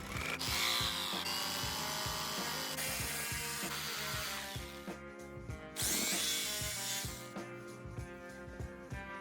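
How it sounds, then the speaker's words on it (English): A jigsaw cuts through a 2x6 wooden board in a fast, steady rhythm of strokes, loud and close, with a brief pause midway before it resumes. "I'm going to cut with my jigsaw these parts out"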